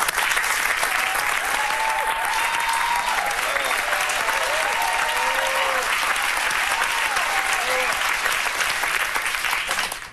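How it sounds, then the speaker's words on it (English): An audience at an evening speech event applauds steadily and loudly for about ten seconds, a dense continuous patter of clapping with a few cheering voices mixed in. "you all deserve a huge round of applause"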